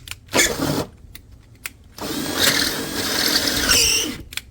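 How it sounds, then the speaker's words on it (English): A power drill whirs in a short burst, pauses, then runs longer and steadily as it re-drills a hole to 19/64 inch in a Ford Maverick truck bed, close and loud. "So first thing I'm going to do is re-drill this hole to 19/64."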